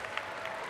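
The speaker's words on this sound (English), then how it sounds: "a round of applause for all the people that got you here" Graduation audience applause at a high school ceremony, a dense continuous wash of many hands clapping from a large crowd, with no voices standing out.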